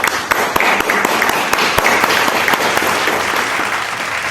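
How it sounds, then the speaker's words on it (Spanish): Loud, close audience applause at a Spanish-language family history presentation, dense clapping with a few sharp individual claps standing out, sustained throughout without speech. "para quien pido un fuerte y caluroso aplauso"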